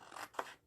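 Scissors cut through paper up to the score line of a handmade gift box, a short rasping snip that peaks in one crisp cut, close and alone.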